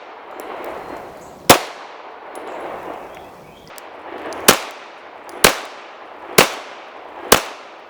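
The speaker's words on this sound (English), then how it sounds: "I am resetting and prepping the trigger while the gun is in recoil" Five loud, sharp pistol shots crack one after another, about a second apart, each with a short echoing tail over faint background noise.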